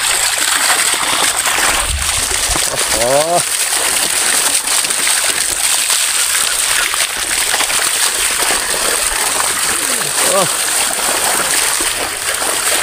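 Pond water spilling into a canal, a continuous loud rush of splashing flow under occasional spoken words, with a brief splash or two standing out.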